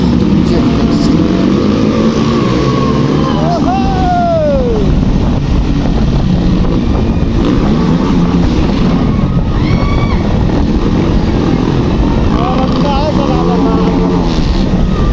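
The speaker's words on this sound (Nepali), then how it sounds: "केटाहरू बाइक रन्काइरहेको छ" Motorbikes revved by boys outdoors during a Tihar festival outing, a continuous loud engine drone with rising and falling rev sweeps, heavy wind buffeting the microphone throughout.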